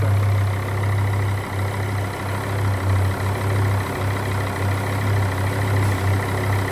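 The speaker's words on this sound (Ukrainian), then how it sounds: "Так, пробуємо завести." A vehicle engine idles steadily, a loud, low, continuous rumble with constant drone and no clear start heard.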